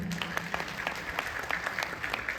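An audience at a Hindi poetry gathering (kavi sammelan) in Mathura claps in scattered, fairly faint bursts, a brief round of applause with crowd noise behind it.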